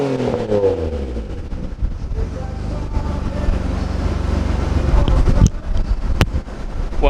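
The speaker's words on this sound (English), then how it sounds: "We're gonna give it a couple revs when it warms up and see, please, dear Lord, let it be louder." A warming car engine is revved a couple of times, its rumbling idle swelling into louder pushes of throttle with some wind noise, and no talking over it.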